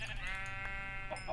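A sheep in the video game Minecraft bleats in one wavering, nasal cry lasting just over a second, close and fairly loud over faint game background sound.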